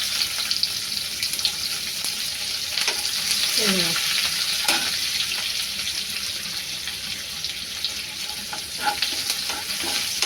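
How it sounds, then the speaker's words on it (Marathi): Garlic with onion tossed in sizzling hot oil in a pan during wild vegetable cooking, giving a steady close frying hiss with scraping stirs throughout and no talk. "बघा थोडा भाजत आलाय लसूण ना, मग कांदा टाकूया. या स्टेपला कांदा टाका."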